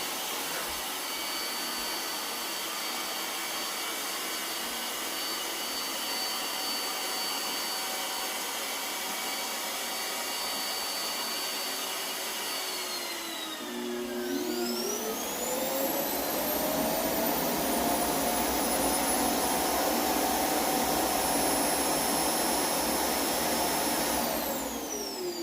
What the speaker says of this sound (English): return back to the stocking station because it detected that its dustbin is full. It would go ahead and self-empty itself